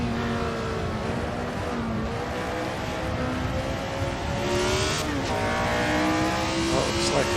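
Several 1967 Formula One race cars at the South African Grand Prix in Assetto Corsa VR drone and whine close together, with engine pitch rising and falling through gear changes and a voice talking over them.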